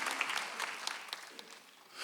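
Faint, scattered clapping from a church congregation during a Sunday service, a thin patter of hands that fades out toward the end, heard at a distance with no speech over it.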